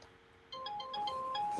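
A phone ringtone chimes in mid-clip, a short melodic series of bright electronic tones rising and stepping between notes, moderately quiet against a faint room hum.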